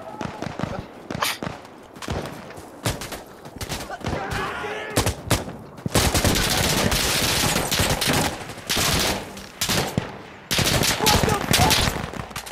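Rapid automatic submachine gun fire from an MP5 in the tactical shooter Insurgency Sandstorm, with dense, loud bursts and sustained sprays over chaotic battle noise and scattered sharp shots, some nearer and some more distant.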